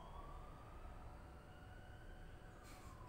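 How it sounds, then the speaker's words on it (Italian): An ambulance siren passes outside an open window, its faint wailing tone gliding steadily above a low constant background rumble. "Intanto stanno venendo a prendermi, non so se sentite l'ambulanza."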